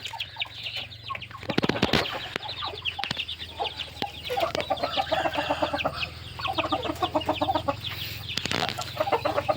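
Young Yersing chicks two to four months old cluck in quick, chattering bursts over a low constant hum, with a few sharp wing-flapping bursts breaking in.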